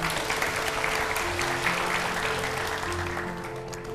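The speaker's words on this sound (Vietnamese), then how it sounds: "mọi người vỗ tay đi nào." Studio audience at a televised dating show applauds in a dense, steady round, moderately loud and slowly fading, with faint musical tones underneath.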